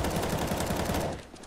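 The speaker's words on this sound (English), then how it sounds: "he's aiming right at that guy and shooting him through the wall" Rapid automatic gunfire from CS:GO, a fast even burst of shots fired through a wall, loud and close before cutting off abruptly.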